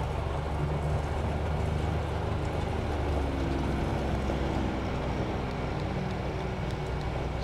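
A diesel 2021 John Deere Gator XUV865R side-by-side utility vehicle drives in low range, its engine a steady, close rumble with broadband road and wind noise throughout, no talking.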